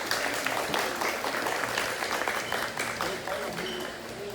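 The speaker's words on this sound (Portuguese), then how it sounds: "eu peço neste momento uma salva de palmas" Audience applause at a literary academy evening, a steady wash of clapping hands that holds for several seconds and tapers slightly, with voices faintly mixed in.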